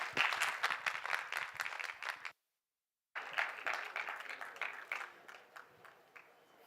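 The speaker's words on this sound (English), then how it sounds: "Let's please give Richard a huge round of applause and a great welcome onto our stage." An audience claps to welcome a speaker onto a stage at a COP28 hangout event; dense, steady applause fills the room, breaks off into a brief silence, then resumes and slowly tapers.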